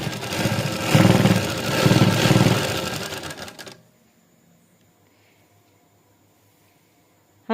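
A sewing machine runs in a loud, fast continuous whir while stitching a fabric shalwar waistband, then stops abruptly, leaving quiet room noise.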